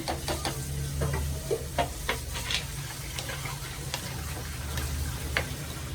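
Ghee sizzles and crackles steadily in a pan while mango pulissery cooks, with scattered stirring clicks and a low hum underneath; no one speaks.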